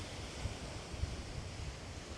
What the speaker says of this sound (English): the waves are still reaching up here because it's quite a shallow beach